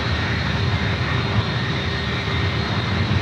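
Steady, loud roar of an airliner jet engine at San Francisco International Airport (SFO), a continuous broadband drone with a faint whine, sustained without pause and no talking.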